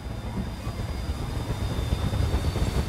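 An airplane in a combat video game drones as a steady low engine rumble, loud and continuous for a few seconds with no talk.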